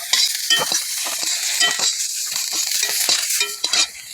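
Pointed gourd (potol) frying in a wok, a steady loud sizzle broken by repeated scraping stirs of the spatula, close and continuous with no voices.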